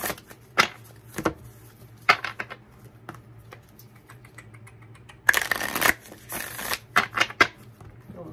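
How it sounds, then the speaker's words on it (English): A deck of tarot cards is handled and shuffled up close, with sparse single riffles and taps followed by two longer bursts of rapid riffling, separated by quiet pauses. "One more shuffle for my Cancerians."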